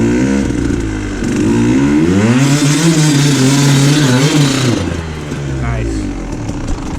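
A KTM 150 XCW two-stroke dirt bike engine revs hard while climbing a hill, rising and falling in pitch as it bogs and picks up, loud and close, with voices talking over it.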